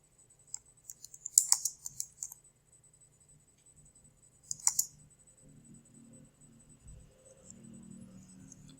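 A computer mouse clicks and keys are tapped in short clustered bursts while ad text is entered, crisp and close, followed by a faint low hum in the background.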